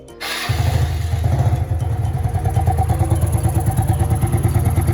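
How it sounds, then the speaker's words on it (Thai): Yamaha Fino scooter engine catches after an oil change, a brief starter whir giving way to a loud, close, steady rhythmic idle that keeps running with no talk over it. "หลังจากนั้นทำการสตาร์ทเครื่อง"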